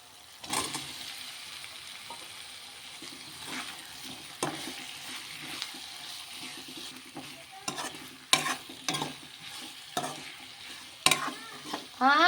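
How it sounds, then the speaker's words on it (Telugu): Tomatoes and boiled potatoes frying in a pan, stirred throughout: a low sizzle under repeated scraping and spatula knocks that grow louder and more frequent toward the end, with no talking. "పచ్చివాసన పోయేంత వరకు ఫ్రై చేసుకోండి"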